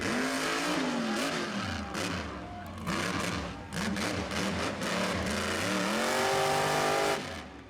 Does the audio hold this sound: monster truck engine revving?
yes